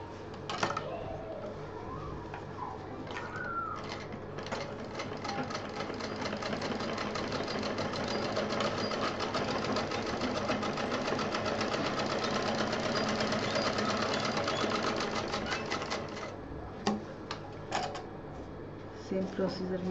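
A sewing machine hums and rattles steadily while stitching a small fabric pouch, close and sustained for most of the stretch before slowing and stopping near the end; a voice talks at times over it.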